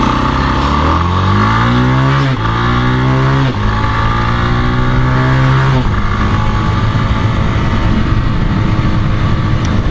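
A 1983 Honda TLR 200 trials motorcycle accelerates along a paved road, its engine note climbing through several gear changes before settling into a steady drone, loud and close throughout.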